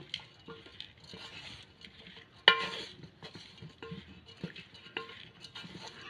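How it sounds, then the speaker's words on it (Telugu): Dal powder being stirred into puffed-rice upma, a Rayalaseema breakfast dish, with soft repeated scrapes and clinks of a spoon against the pan, close and fairly quiet, with one louder knock midway. "పప్పుల పొడి వేసుకొని కూడా ఇంకొకసారి కలుపుకోవాలండి"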